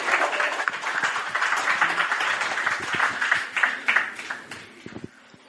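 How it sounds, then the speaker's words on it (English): A live audience at a Halloween-season film screening claps for a local film group, a moderate round of applause with scattered whoops that thins out and fades near the end. "another round of applause for Fair Creek Films"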